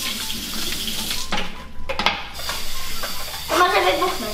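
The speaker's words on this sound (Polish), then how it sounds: "Ja wyleję gazowaną, naleję z kranu." Tap water runs from a kitchen faucet into a glass in a steady close splash, swelling louder near the end, with a few brief knocks and handling noises mixed in.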